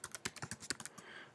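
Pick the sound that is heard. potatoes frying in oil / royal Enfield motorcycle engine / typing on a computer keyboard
typing on a computer keyboard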